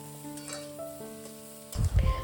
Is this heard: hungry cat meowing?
no